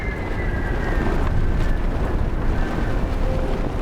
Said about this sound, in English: I can already hear wind.